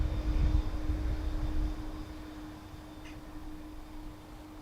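A Ryanair jet arriving from Liverpool at Dublin Airport gives a faint, distant low rumble that fades over a few seconds, with a steady hum underneath.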